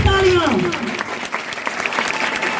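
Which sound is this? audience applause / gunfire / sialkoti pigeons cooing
audience applause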